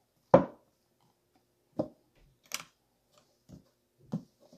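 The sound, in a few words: tarot card deck being cut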